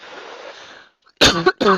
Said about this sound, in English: Excuse me on the cough there